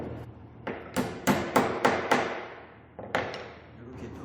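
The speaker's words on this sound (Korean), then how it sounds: "망치나 단단한 물건으로 이렇게 한 개," Hammer taps driving a wooden stick into a wooden wheel for a child's wooden dinosaur craft kit: about eight sharp, close knocks in two bursts, evenly spaced at first, then a pause before a few more.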